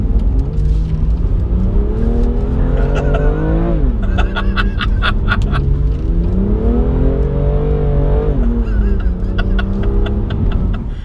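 A manual BMW M2 Competition revs hard, the engine note climbing and dropping in repeated sweeps, loud and close, with gear-change crackles in between.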